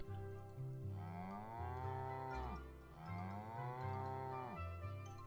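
Cows in the farming game Another Farm Roguelike Rebirth mooing twice in long, drawn-out lows that rise and fall, clear and close with no talk.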